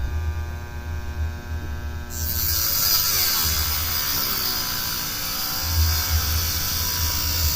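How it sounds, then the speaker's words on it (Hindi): A homemade 12V angle grinder cuts through a PVC sheet: a steady motor hum and whine, then after about two seconds a continuous harsh rasping grind that holds close and even to the end. "ये एंगल ग्राइंडर काफ़ी अच्छी तरह से काम कर रहा है"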